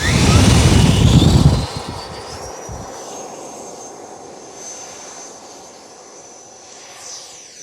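Freewing Motion RC F16 V2 electric ducted-fan jet on 8S power, a loud close whooshing roar for about a second and a half that drops to a steady, fainter high-pitched whine as it flies away.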